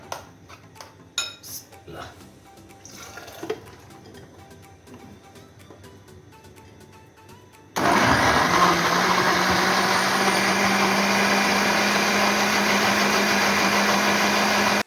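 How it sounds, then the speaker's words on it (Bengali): Light clinks and kitchen clatter come first, then a blender abruptly starts grinding green peas with soaked semolina, roaring loud and steady at close range for the remaining seconds. "এখন এই সুজিটার সাথে এটা ব্লেন্ড করে নামিয়ে নিব।"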